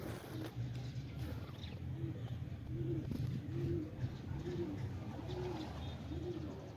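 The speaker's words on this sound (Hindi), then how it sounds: "अभी देख रहे हैं नए कबूतर इसमें ऐड होते जा रहे हैं" Pigeons coo repeatedly in a loft in Quetta, Pakistan, their soft rolling calls overlapping at a moderate distance over steady background noise.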